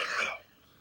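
A single short cough or throat clearing from one person, close and fairly loud, fading quickly into quiet.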